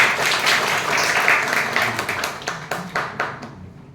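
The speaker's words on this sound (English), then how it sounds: "Please give a round of applause." A round of applause from the audience at a club meeting, many hands clapping steadily at moderate loudness, then thinning out into scattered individual claps near the end.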